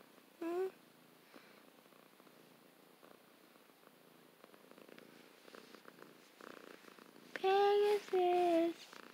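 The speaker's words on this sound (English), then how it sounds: "He's still purring." A domestic cat purrs softly and steadily close by, a low continuous rumble, with a few brief louder vocal sounds breaking in near the end.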